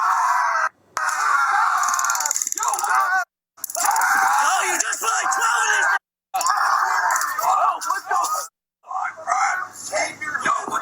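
A man lying face down with his hands behind his back screams in pain while police taser him. His voice is loud and strained, in long anguished wails broken by brief silences, with some groaning.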